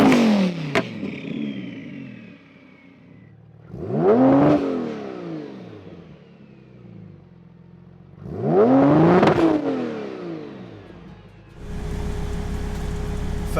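Two revving engines, a 1200HP Porsche 911 Turbo S and a twin-turbo Lamborghini Huracan at a drag race, blip in turn. Each loud rev rises and falls, separated by idle rumble, then a steady roar follows.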